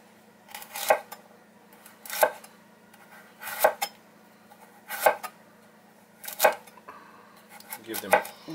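Sliced vegetables, the chunkier pieces going in first, dropped into a cooking pan for a keto dinner, heard as six evenly spaced clattering clinks of utensil on pan, moderately close over a quiet kitchen background.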